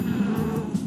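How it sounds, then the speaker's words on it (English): A bee gives a brief, steady buzz, close and fairly loud, with a low droning hum lasting under a second. "A bee makes a buzz sound."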